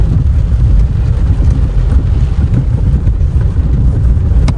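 Heavy rain drums steadily on a jeep during a rescue outing, a dense, loud, continuous wash of noise with no break and no voices.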